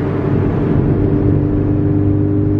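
Scion FR-S cruising on the road after an oil change, a steady, even drone of engine and road noise with a low hum, no talking.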